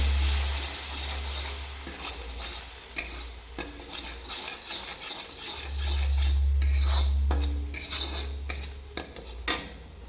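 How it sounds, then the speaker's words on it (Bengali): A pot of curry with garam masala, chole masala, vegetable masala and hot water is stirred, with repeated scraping and clinking of a spoon against the pot over a low background rumble. "এগুলো দিয়ে দেবো, সুন্দর করে নাড়াচাড়া করে নেবো।"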